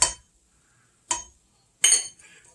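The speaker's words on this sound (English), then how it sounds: "I'm just going to rinse off my spoon, just like that." Metal spoon clinking against a cooking pot while being rinsed off during one-pot stroganoff preparation, three short bright clinks with gaps between them, near and fairly quiet, with no talking.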